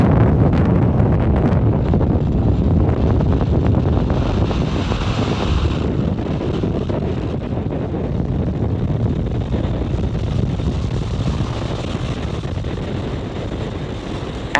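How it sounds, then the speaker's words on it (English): SpaceX Falcon 9 rocket lifting off from Space Launch Complex 4 East at Vandenberg Space Force Base, California, on the Transporter-13 mission: a loud, steady, broadband roar with buffeting wind-like rumble, sustained without a break and no voices. "Falcon 9 has successfully cleared the tower and lifted off from Space Launch Complex 4 East at Vandenberg Space Force Base in California"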